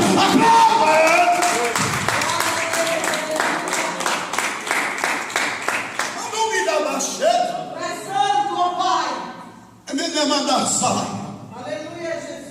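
A church congregation breaks into applause and cheering during a Portuguese-language worship service, loud dense clapping that fades and surges again, with a preacher's voice speaking over it at times.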